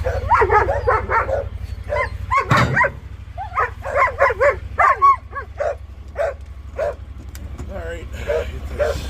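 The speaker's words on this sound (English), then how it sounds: "You're a funny little dog." A small dog named Ginger gives a string of sharp, yippy barks and whimpers close by, broken into quick bursts over a steady low engine-like hum, with a person talking to her in between.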